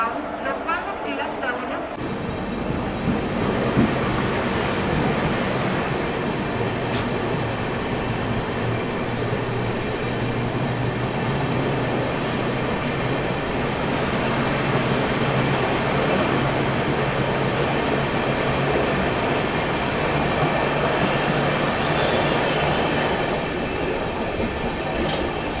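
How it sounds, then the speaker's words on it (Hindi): Banker locomotives pass close by along a curve, a steady loud rumble of rolling wheels and wagons carrying on for the whole stretch, with faint talk underneath. "ये देखो बैंकर लोकोमोटिव इधर बहुत सारे मिलेंगे आसपास आपको"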